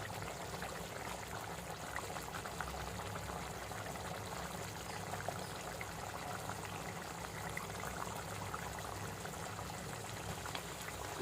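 Fish dropped into a pan of simmering fish gravy (karapodi meen kulambu) gives a steady, close bubbling and sizzling hiss that runs evenly throughout, with no talking.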